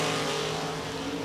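Drag race cars in Top Sportsman eliminations at National Trail Raceway launch off the line, a loud, steady engine roar and harmonic drone filling the whole moment with no speech.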